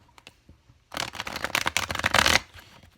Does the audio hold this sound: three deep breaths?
no